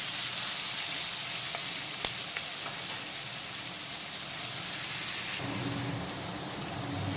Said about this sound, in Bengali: পেঁয়াজ কুচিটাকে লো টু মিডিয়াম আঁচে অল্টারনেট করে করে ভেজে নিয়েছি হালকা বাদামি কালার করে